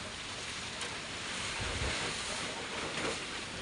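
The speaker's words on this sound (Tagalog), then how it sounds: "Mahina na yung ulan pero lakas na ang hangin." Strong wind sweeps over the sea along a coast just after a typhoon, the rain having eased; a steady, loud broadband roar of wind and surf fills the whole stretch, swelling into a stronger gust midway, with no voices.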